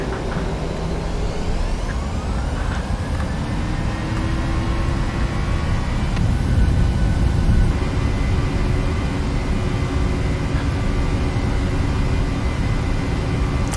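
Airliner jet engines spool up to takeoff thrust in the FSX flight simulator, a steady loud roar with rising whine tones that swells gradually over about fourteen seconds.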